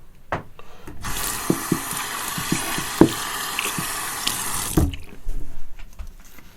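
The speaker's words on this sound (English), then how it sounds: "rinse off my hands and dry off the bowl" A tap runs steadily for about four seconds as hands are rinsed under it, a continuous hiss of water with a few small knocks and splashes, fairly close, with no voices.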